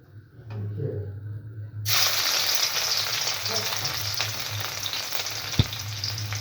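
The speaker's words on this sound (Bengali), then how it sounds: "তেলটা গরম হয়ে গেছে, এবারে দিয়ে দিচ্ছি 2টো রসুন কাটা" Chopped garlic hits hot soybean oil in a wok and erupts into a loud, steady sizzle that holds to the end, with a faint hum beneath and a single sharp tap of a utensil near the finish.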